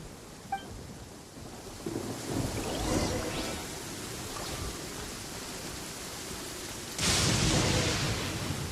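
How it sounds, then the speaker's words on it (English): A thunderstorm in the game Genshin Impact, with steady rain hiss, a low rumble of thunder and a louder thunder crack near the end, no talking. "Lightning storm!"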